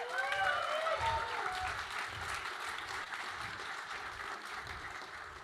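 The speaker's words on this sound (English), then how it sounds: "big round of applause for everybody today, you guys" A crowd at an investment summit finale applauds steadily at moderate volume, with cheering or voices faintly mixed in near the start before settling into an even clapping wash.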